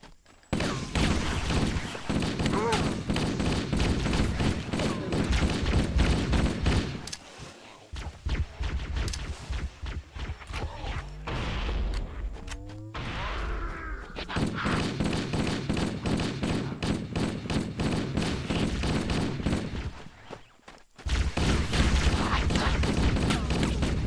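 A rapid-firing gun in Halo: Combat Evolved rattles in long, loud bursts up close, with a short pause midway where other game sounds come through, then heavy firing resumes.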